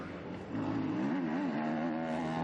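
Motocross bike at the MXGP of Spain 2020 engine burbling at low revs, a steady buzzing drone with slight pitch wobble as the throttle is rolled on, fairly faint.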